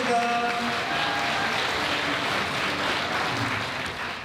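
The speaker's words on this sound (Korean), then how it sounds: "박수 부탁드립니다" Loud, sustained applause from a sizable wedding crowd in a hotel grand ballroom, steady clapping filling the room for several seconds without a break.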